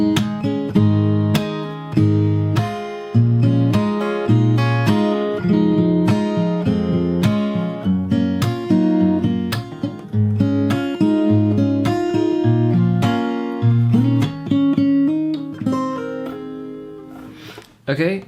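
Fingerstyle acoustic guitar plays the second verse part of a song, a steady flow of plucked bass notes and ringing melody strings with a slide near the end, close and clear with no talking.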